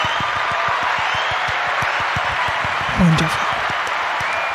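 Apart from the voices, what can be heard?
golf clap from the audience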